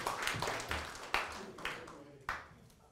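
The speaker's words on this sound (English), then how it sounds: "Round of applause for Hassan." Scattered claps from a small audience greeting a volunteer named Hassan at a communication workshop, a few distinct hand claps fairly faint and sparse over about three seconds.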